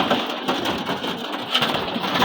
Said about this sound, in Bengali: এই যে এখানেও দেখেন কবুতর আছে